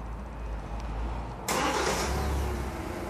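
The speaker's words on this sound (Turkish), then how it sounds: "Çalıştırın aracı." A Kia Sportage engine cranks and catches at about the midpoint, then settles into a steady, fairly loud idle close by after a quieter stretch of low rumble.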